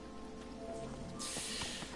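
Steady rain falls in Final Fantasy XV, a constant soft hiss of drops on the ground that thickens partway through, heard alone at moderate volume.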